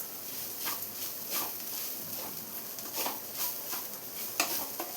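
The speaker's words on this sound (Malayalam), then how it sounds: "തേങ്ങയെല്ലാം ഒന്ന് ഫ്രൈ ആയി വരുന്നുണ്ട്." Dried grated coconut frying in a pan for a chicken chutney powder, a soft continuous sizzle broken by repeated rhythmic stirring scrapes, fairly quiet and close.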